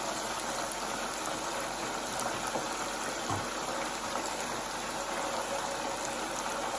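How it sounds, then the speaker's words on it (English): Spinach flash-frying in hot oil at 350 degrees makes a steady, dense, fairly quiet hiss and crackle that holds evenly throughout, with no talk. "It only takes a couple minutes to flash fry it."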